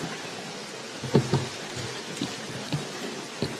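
Rain falling during an outdoor university inauguration ceremony, a steady soft hiss of drops with a few louder close patters and taps, no voices.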